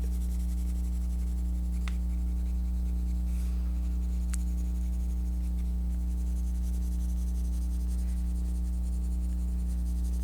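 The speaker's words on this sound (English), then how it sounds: "Color around the inside of the shape first and inline it." Colored pencil scratches softly on paper while filling in a shape, a faint continuous scraping under a steady low electrical hum, close but quiet.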